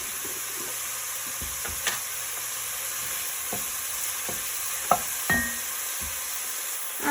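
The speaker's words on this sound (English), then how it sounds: "Got my mushrooms in. I'm gonna let these go for just a minute or two" Mushrooms sauté in a pan for vegetarian chili, a steady soft sizzle with scattered stirring scrapes and taps from a utensil, close and fairly quiet with no talking.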